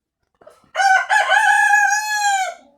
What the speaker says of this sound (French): Le coq suit son maître.